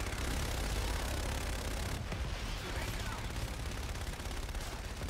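Heavy gunfire and explosive bursts in CoD: Infinite Warfare, a loud, dense barrage that barely pauses, with game voices speaking over it.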